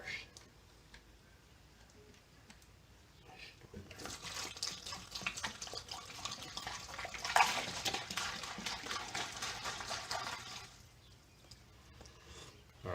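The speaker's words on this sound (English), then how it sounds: "take 1 quart of the cleaner degreaser and dump her in the tank." Cleaner degreaser liquid glugs and splashes into a tank for several seconds, building to a louder pour before tapering off into quiet.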